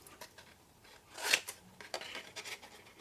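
Scissors cutting through a paper box, one fairly loud crisp snip and crunch followed by several smaller snips and papery rustles, faint and close.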